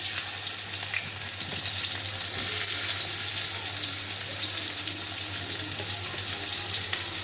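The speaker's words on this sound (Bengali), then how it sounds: "এবার আমি ওই তেলের মধ্যে দিয়ে দেব পেঁয়াজ কুচি" Chopped onions frying in hot oil, with a steady bright sizzle that holds evenly throughout and a few faint clinks mixed in.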